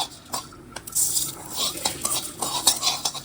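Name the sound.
coriander seeds being stirred and fried in a pan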